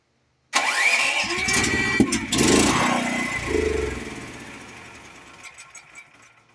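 An engine running on two 100 lb tanks cranks and catches, revs roughly and loudly, then sputters and fades out as it dies.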